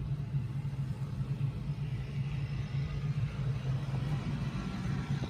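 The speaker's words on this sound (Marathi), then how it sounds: "सर गाडी चालवत आहेत बघू शकता तुम्ही" A car driven through traffic by a driving school instructor, its low engine hum and road rumble steady and fairly quiet, with no voices over it.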